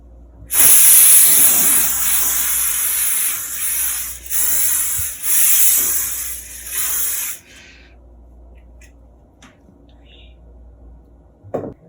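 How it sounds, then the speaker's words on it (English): A spray bottle of Carbon Pro leather protector hisses loudly in several long bursts with short breaks between, sprayed onto Louis Vuitton vachetta leather, then stops, leaving quiet handling noises. "give the bottle a bit of a shake, and then I'm gonna go ahead and start spraying it"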